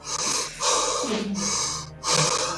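A voice imitates heavy panting with four loud, raspy breaths in and out, close to the listener.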